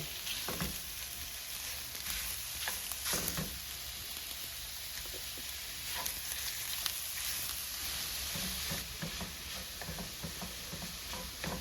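Crumbled pork breakfast sausage fries in a skillet with a steady close sizzle, broken by occasional scraping and stirring sounds from a utensil, and no talking over it.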